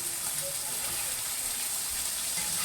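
Sausage browning in a pan on a stovetop, a steady broadband sizzle and hiss that holds evenly throughout at moderate level, with no voices.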